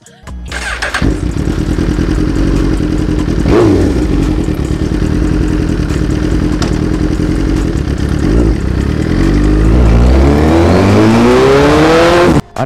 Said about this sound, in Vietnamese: Anh em nghe cái tiếng bô của nó nè